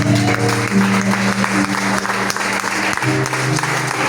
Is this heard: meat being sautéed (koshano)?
no